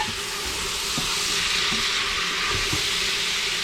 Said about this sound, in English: it's going to sound like it's sauteing